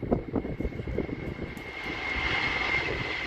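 An Asiana Airlines airliner takes off at Honolulu airport, a strong, steady engine roar that swells and holds, heard from nearby outdoors with a sustained whine on top.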